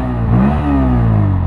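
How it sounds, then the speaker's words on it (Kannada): A 2025 Bajaj Pulsar N160 160cc motorcycle engine revs up close and loud, its rising and falling tone steady and alone. "ಇಂಜಿನ್ ಸೌಂಡ್ ಈ ಥರ ಕೇಳಿಸುತ್ತೆ"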